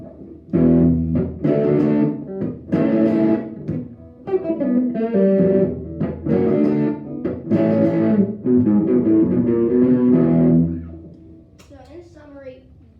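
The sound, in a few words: electric guitar riff with distortion pedal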